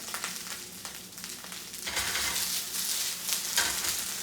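Green beans sizzle and fry in a hot pan seasoned with salt and pepper, a steady close crackle that swells louder partway through, with a few faint stirring scrapes and no talking.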